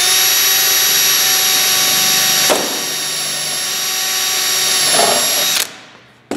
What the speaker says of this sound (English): Put the drill bit in there, pull the trigger,